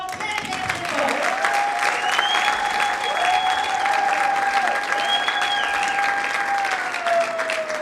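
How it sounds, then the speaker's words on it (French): Loud, sustained applause from a theatre audience after a classical stage performance, steady clapping filling the room with a high sustained tone ringing over it. "nous l'applaudissons encore très très très fort"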